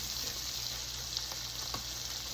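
Food searing in a frying pan for a garlic butter noodle dinner, a steady close sizzle with faint crackles and a few light pops throughout, no talk.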